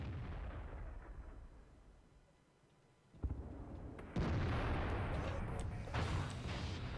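Tank cannon fire in World of Tanks, a Challenger 'Son of TOG': a sharp shot cracks out after a quiet stretch, then a second heavy blast follows with a loud rumbling boom that lingers.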